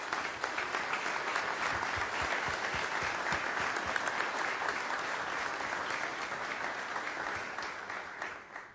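Sustained applause from a concert audience, dense clapping that holds steady and fades slightly at the end.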